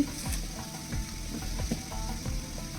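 Onions with a quarter spoon of turmeric powder fry in a pan for kanda poha, a close, steady sizzle broken by rhythmic scraping and clicking from the stirring.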